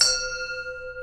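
A meditation bell rings once during a Zen service. It gives a bright strike followed by a clear, sustained ringing tone that slowly fades, alone in a quiet room.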